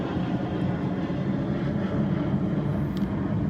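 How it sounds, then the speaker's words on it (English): A private corporate jet departs Naples airport, its steady broadband engine roar carrying loud and unbroken across an outdoor seaside setting for several seconds, with no voices. "Goes one of the private jets leaving the Naples airport."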